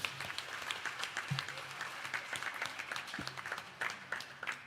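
Applause for children at a temple anniversary celebration, a steady patter of many hands clapping at moderate distance with a few sharper claps, fairly quiet overall and continuing throughout.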